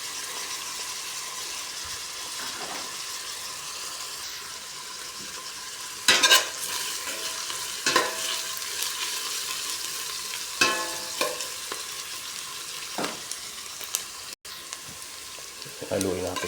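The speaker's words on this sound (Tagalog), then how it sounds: "Haluin natin guys para maluto na." Chopped onion and garlic sizzle in a pan while being stirred for octopus adobo, with a constant low hiss broken by several sharp scraping stirs near the end.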